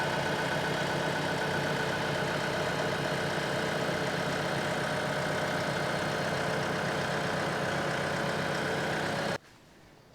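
A farm tractor's engine runs steadily in a barn, a constant mid-to-low rumble that holds even and fairly loud for about nine seconds before cutting off abruptly.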